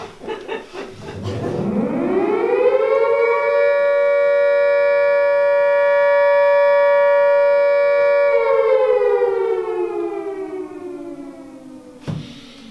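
A civil defense siren winds up from a low growl to a sustained, loud wail, holds it for several seconds, then slowly winds down, heard alone.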